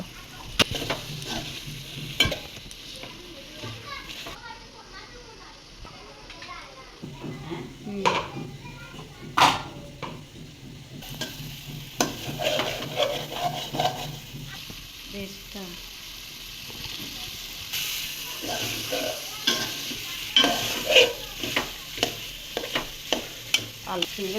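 Pre-boiled meat is stirred and fried in a pan for biryani, with a continuous sizzle and scraping stir strokes. People talk intermittently over it in a home kitchen.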